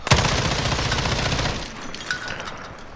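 M13 rifle in Modern Warfare fired aimed down sights, a dense rapid burst of automatic gunfire lasting about a second and a half, then a trailing echo and faint ringing, no voices.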